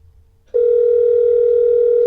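A telephone ringback tone cuts in after a short moment of quiet and then holds steady and loud, a single continuous pitch with no break, on an unanswered call to a franchise company.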